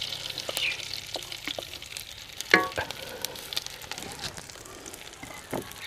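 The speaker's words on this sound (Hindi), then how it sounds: "मक्खन को अच्छे तरीके से गर्म करने के बाद इसमें सौंफ शामिल कर देंगे।" Fennel seeds crackling in hot butter in a village kitchen, a soft continuous sizzle with scattered pops and one sharper clink midway, close and fairly quiet.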